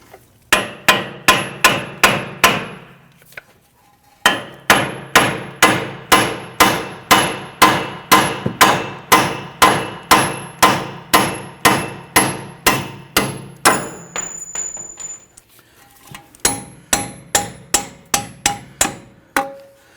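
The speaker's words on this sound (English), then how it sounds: "Go ahead and tap out the lower bolt" Sharp metallic hammer blows tap out the lower bolt on a 2010–2019 Ford Taurus front CV axle, ringing in a fast steady rhythm of close strikes that pause briefly twice before resuming.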